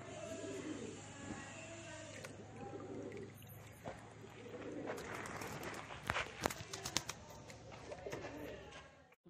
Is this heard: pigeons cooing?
yes